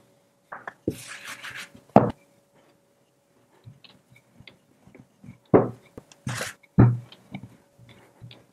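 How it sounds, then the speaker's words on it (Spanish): Dough is rolled out on a floured table: soft, scattered thumps and rubbing strokes of the pin arrive in irregular bursts with quiet gaps between them, close and fairly faint, with no voices. "espolvoreamos la mesa con un poco de harina, cogemos la masa y la estiramos en un rectángulo de unos 2 milímetros de grosor"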